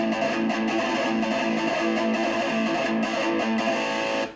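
A doubled rhythm electric guitar part, the second take panned hard left, plays thick, distorted sustained chords at a steady level with no talking, cutting off abruptly at the end.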